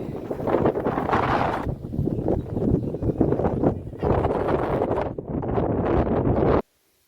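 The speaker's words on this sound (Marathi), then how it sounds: "किती वारा आहे फुल वारा आहे" Strong wind buffets a microphone outdoors in a loud, sustained roar with a few brief dips. It rustles steadily and then cuts off abruptly near the end.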